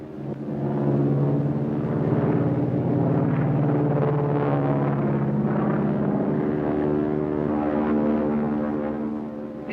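A propeller-driven land plane from the 1930s flies out over the sea, its engine a steady, loud droning hum with a rough, rumbling texture that holds constant throughout, with no voices.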